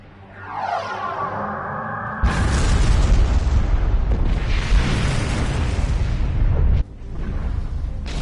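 A direct-hit explosion in the space combat game Star Trek Online: a rising whoosh builds into a loud, booming blast that rolls on for several seconds before cutting off, followed by lingering rumble.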